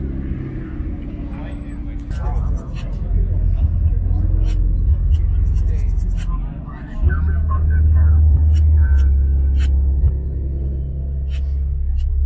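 An Audi R8 V10 idles at a supercar meet in Arizona, giving a loud, deep, continuous engine rumble that swells and holds steady, with people talking nearby.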